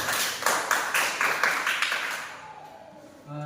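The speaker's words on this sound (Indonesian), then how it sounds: "Tepuk tangan untuk kelompok 2" Elementary school students clap for a group in class, a brief scattered burst of hand claps that fades out after about two seconds, leaving a quieter room with faint voices.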